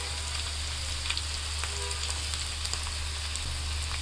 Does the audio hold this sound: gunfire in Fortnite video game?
no